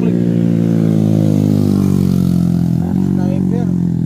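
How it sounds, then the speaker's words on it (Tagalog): Racing motorcycle engine holding a steady, loud drone on a highway, with a sharper shift or rev change near the end and faint voices in the background. "Set up ng motor niya. Mga racing po ito oh."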